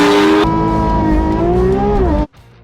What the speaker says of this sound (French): Mick fait beaucoup patiner ses roues